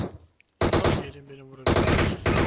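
Automatic gunfire in PUBG Mobile, two loud rapid bursts of shots separated by a short pause, with a brief tonal game sound in the gap.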